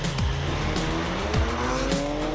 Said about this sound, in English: Who knew cornering in a crossover could be so much fun?